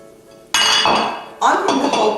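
A sharp clatter as dry fettuccine drops into a metal pot of nearly boiling water, followed moments later by a second louder clinking rattle, close by.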